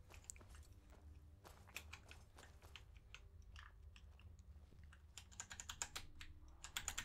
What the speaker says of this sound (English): I wish this mechanical keyboard was louder.